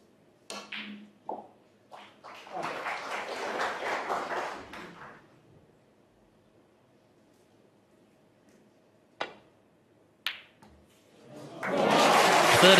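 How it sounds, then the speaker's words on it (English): Snooker crowd at the World Championship breaks into applause, a swell of clapping that fades into quiet, followed by isolated ball clicks and another round of applause rising at the end. "Listen to the applause."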